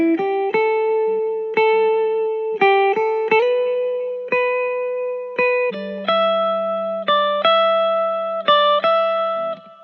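A clean electric guitar plays the last two bars of a tune as a series of plucked notes and chords, each ringing and decaying in a bluesy rhythm, alone and close.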